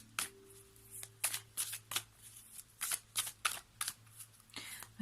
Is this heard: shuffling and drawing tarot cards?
yes